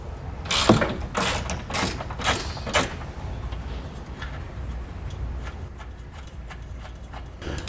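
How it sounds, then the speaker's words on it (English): A hand ratchet with an 18mm socket clicks sharply in quick bursts while loosening a bumper flange nut on a 2015 BMW X1, then settles into softer, faster ratcheting taps, close up with no talking. "you're going to need to take off that flange nut and that flange nut. It's going to be an 18mm socket."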